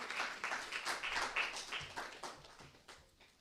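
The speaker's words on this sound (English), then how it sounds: "So let's welcome her with a big, big round of applause." Quiet, scattered hand clapping from an audience at an International Women's Day celebration greets a speaker, a loose patter that thins out toward the end.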